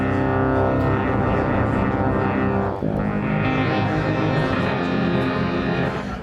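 A Novation Summit synthesizer playing a sine wave shaped with FM frequency modulation, giving a loud, sustained, harmonically rich and buzzing tone with a brief dip near the middle before the sound resumes.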